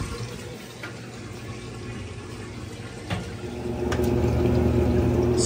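A GE GTW465ASN1WW top-load washing machine with a Code 29 fault fills with water, a steady rushing hiss that grows louder and fuller near the end, heard alone.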